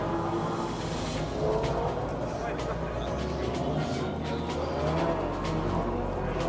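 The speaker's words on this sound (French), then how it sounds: "Ah, la Maserati magnifique." A Maserati GT race car at a GT World Challenge event drives past amid steady track and crowd noise, its engine note rising and fading at a distance.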